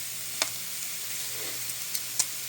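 A soft, steady sizzle of chanterelle mushrooms dry-sautéing in a hot pan, with a few sharp crackles and pops rising above the hiss.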